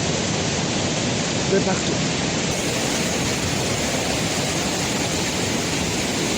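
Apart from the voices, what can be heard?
waterfall of the Hérisson cascades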